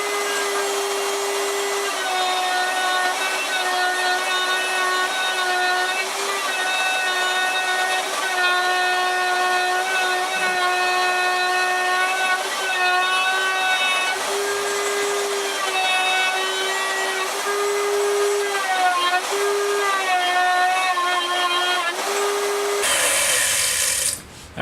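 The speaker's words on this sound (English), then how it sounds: "I need to trim down this blank by 1/4 inch." A power tool trims a carbon fiber kiteboard blank, giving a sustained high whine with a wavering pitch and a gritty cutting rasp, loud and close. It runs almost without a break before stopping abruptly at the end.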